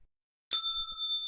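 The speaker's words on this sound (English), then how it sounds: "Oh, bell." One bright ding of a bell sound effect, like a bicycle bell, striking sharply after a brief silence and ringing on with a clear, slowly fading tone.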